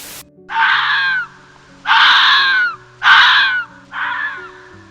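Four loud, hoarse screams from a fox ring out one after another, each about a second long and separated by short pauses, harsh and wavering.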